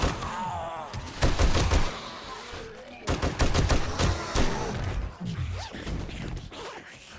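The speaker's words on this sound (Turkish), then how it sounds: "M60 diye mermisine güvenip sıkıyorum." An M60 machine gun fires in 7 Days To Die in several sharp bursts of rapid shots, loud and close, with brief pauses between bursts and occasional talk.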